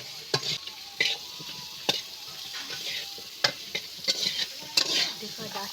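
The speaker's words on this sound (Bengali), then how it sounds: "আর আমি আলু দিয়ে ভালোভাবে নাড়তে থাকবো, নেড়ে চেড়ে আমি ভালো করে আলুটা কষি নেব।" Potatoes fry in a pan while being stirred, a soft steady sizzle broken by intermittent sharp scrapes and clinks of the spatula against the pan, fairly quiet and with no talking.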